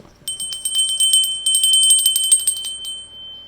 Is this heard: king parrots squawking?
no